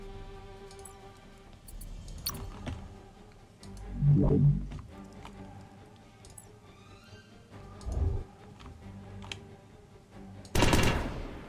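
Missiles fire in fleet combat in the space strategy game Evolving Empires, heard as bursts of rapid, rattling shots over a steady low engine hum, with heavier blasts around the middle and a loud, bright rush near the end.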